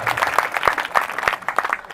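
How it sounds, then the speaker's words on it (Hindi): Audience applause answering a call to clap, a dense steady patter of many hands with sharper individual claps standing out, moderately loud throughout. "तालियां वालियां बजा दो जरा एक बार।"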